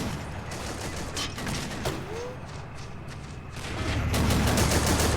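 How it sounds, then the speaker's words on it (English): Steady .50 cal machine gun fire in Assault Squad 2 during a farm battle, a dense rattling barrage that continues throughout and swells louder toward the end, with no voices heard. "Getting some 50 cal in there."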